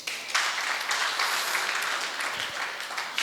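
Audience at a youth conference church session applauds in a steady, dense wash of clapping that holds at moderate level throughout, without any talk over it.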